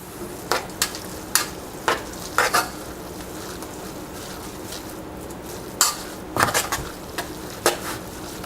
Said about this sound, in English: add my jalapenos to my ground beef here. Get that mixed in a little bit